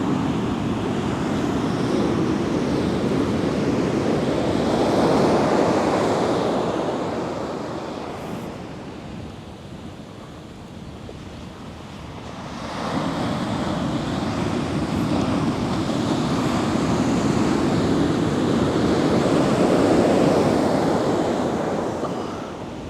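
Strong ocean surf breaks on a shore in two long swells, each building to a loud roar and then easing off, with steady wind noise over the water and no voices.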